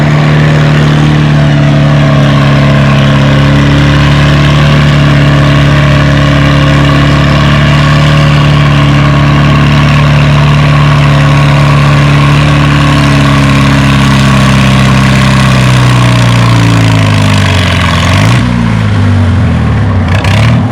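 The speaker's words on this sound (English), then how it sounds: "First up, we got a Farmall H." A Farmall H tractor labors at a tractor pull in the 4,250 pound class, its engine droning loud and steady under heavy load for a long stretch, then dropping in pitch and wavering near the end.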